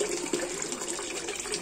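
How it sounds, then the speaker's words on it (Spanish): Inn fountain with water pouring and splashing steadily, a continuous close, bright rushing flow with no breaks. "Mira qué fuente tan bonita hay aquí en la posada"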